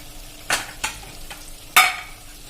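Masala paste sautéed in a pan sizzles softly while a spoon stirs it, giving several sharp scraping strokes spaced unevenly over a low frying hiss, close and with no talk.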